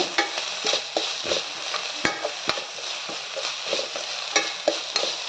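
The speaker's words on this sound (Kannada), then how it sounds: "ಈ ಥರ ಫ್ರೈ ಮಾಡಿ ಚೆನ್ನಾಗಿ ಫ್ರೈ ಮಾಡಿ" Sprouted legume usli fries in oil in a pan while a spoon stirs it, giving a steady close sizzle broken by repeated scraping and tapping strokes.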